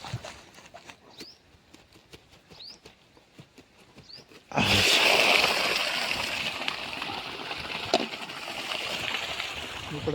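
Water gushing and splashing as a farm water tank is drained and washed out, a loud continuous rush that starts abruptly midway after quieter ticking and dripping sounds.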